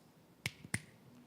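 Fingers snap twice in quick succession, crisp and close in a quiet church setting, with a faint click in between and low room hiss underneath.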